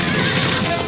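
A horse neighs loudly and continuously during a stable fire, a dense, close whinny lasting under a second with no other sounds standing out.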